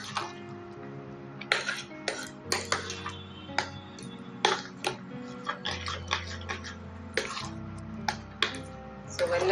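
A spoon clinks and scrapes in a pot as jaggery is stirred into sweet pongal over a low flame. The taps and scrapes come quietly and irregularly, with short gaps between them.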